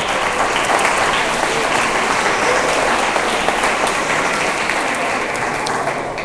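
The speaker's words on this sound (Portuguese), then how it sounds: "Você pode dar uma salva de palmas para Jesus." A church congregation at a Hanukkah festival celebration gives a long, steady round of applause, a full and even roar of many hands clapping at once without letup.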